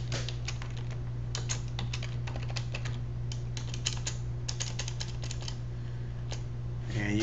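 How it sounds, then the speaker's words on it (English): Steady rapid tapping of fingers typing a message on a computer keyboard, close and fairly quiet over a constant low hum. "type in your message right here."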